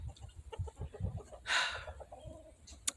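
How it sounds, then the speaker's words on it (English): Roosters on a farm give a burst of clucking and a short squawk that rises briefly above quiet background chatter of poultry, fairly close and moderate in volume. "The roosters."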